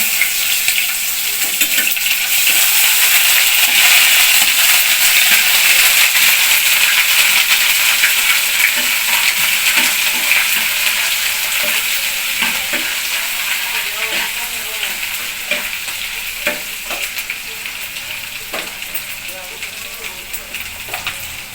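Whole garam masala, bay leaf and onion paste fry in hot oil with a loud, continuous sizzle that slowly eases over time, stirring noises scattered through it.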